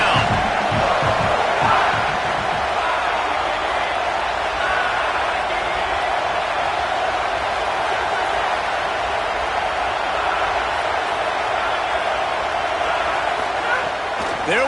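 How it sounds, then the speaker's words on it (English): Dense, steady roar of a football stadium crowd at an LSU game, loud and continuous throughout with a slight swell near the start, no distinct voices standing out. "This crowd knows this defense needs them right now."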